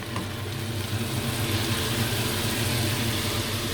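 Carrots poured into a pan of browned onions, a loud, steady sizzle and hiss of frying close up that swells after they land, with no talking.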